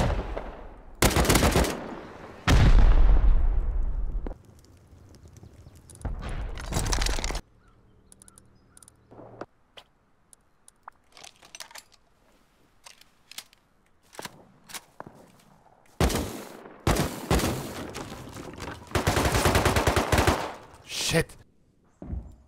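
AK rifle fire in a video game fight on a farming server, loud bursts of rapid automatic shots coming in clusters with quieter gaps between, plus footsteps and scattered single cracks.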